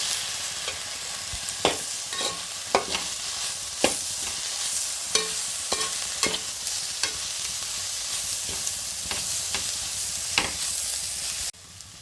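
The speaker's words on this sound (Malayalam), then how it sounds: "വേവിച്ച് വെച്ച ചീര ഇട്ട് കൊടുക്കാം നന്നായി ഒന്ന് മിക്സ് ചെയ്യണം" Cooked spinach being mixed into a sizzling egg thoran in a pan, with repeated spatula scrapes and taps over a constant frying hiss that cuts off abruptly near the end.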